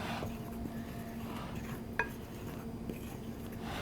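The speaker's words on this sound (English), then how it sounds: "So we're going to stir that all together just until it's mixed." Dry baking ingredients stirred together in a bowl: a steady, faint scraping swish with one brief clink of the utensil against the bowl partway through.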